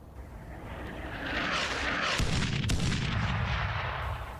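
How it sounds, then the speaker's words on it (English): Artillery barrage in the tank-warfare video game Armored Brigade 2, with a rolling roar of shell impacts that swells in the middle and a sharp crack near the end, heavy and sustained, with no voices. "The attack is being hit by some artillery though."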